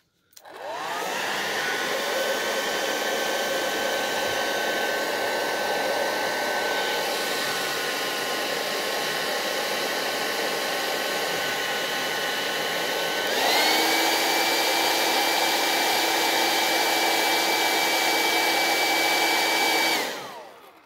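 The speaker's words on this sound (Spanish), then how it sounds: "Tiene que ser el secador de pelo." A hair dryer blows hot air in a loud, steady whoosh for about twenty seconds, with a shift in pitch midway as the setting changes, then cuts off abruptly at the end.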